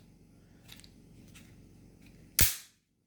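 A single sharp, loud pop from an airsoft SIG P365 pistol fired near the end, after a few faint clicks, with a short ringing decay and no voices.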